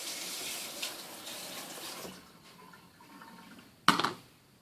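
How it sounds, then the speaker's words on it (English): Tap water running while lemon juice is rinsed off a kitchen item during kefir water brewing, a steady moderate wash of flow that thins out midway before a short louder splash near the end. "I'm gonna rinse it from the lemon juice."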